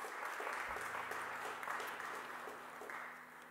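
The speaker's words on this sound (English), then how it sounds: "a round of applause is appropriate" A congregation applauds at a Christmas Eve service in St James Church, a soft, steady patter of clapping heard from a distance in a reverberant hall, with a low hum underneath, tapering gently.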